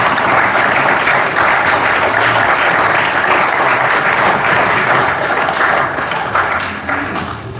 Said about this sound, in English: Are we going to applaud or not?